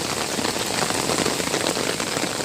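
Strong, steady rain pours down outdoors on a hot day, a dense continuous hiss of drops hitting surfaces all around with no pauses and no voices.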